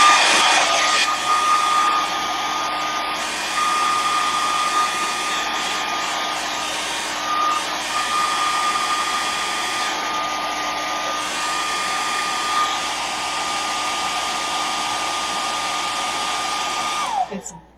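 Hair dryer blowing on a damp painted wooden picture frame, a loud, steady whine that runs close and continuous for most of the time before cutting off abruptly at the end, with no speech.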